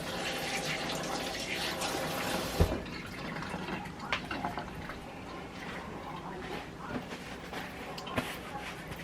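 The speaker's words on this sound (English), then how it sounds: "Wash my hand." Tap water runs in a kitchen sink while someone rinses their hands during home cooking of air-fried chicken wings. It gives a low, steady wash of splashing with a few faint clunks and drips.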